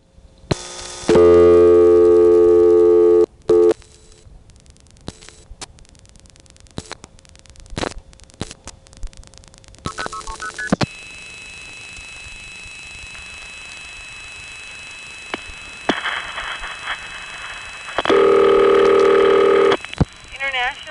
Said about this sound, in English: I'll have to dial while it is MFing out so you won't hear all the tones